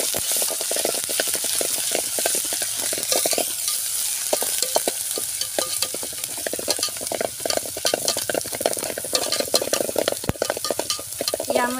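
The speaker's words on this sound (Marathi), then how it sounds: "आता यामध्ये आपण मसाला पेस्ट टाकला आहे." Onion and masala paste sizzle and fry in a pan while being stirred, a continuous close crackling hiss broken by frequent scraping strokes of the spoon, with no talk.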